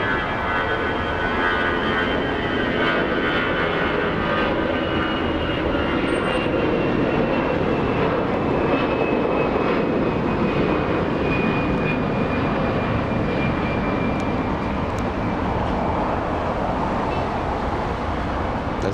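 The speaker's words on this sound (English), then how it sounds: "We have Delta's 2869 flying to San Antonio, Texas, an Airbus A319." A Delta Airbus A319 departing LAX, a sustained, powerful jet engine roar with a gliding high-pitched whine running the whole time, loud and close, no talk.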